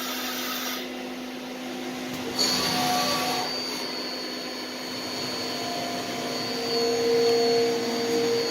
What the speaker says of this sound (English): Coolant pump works.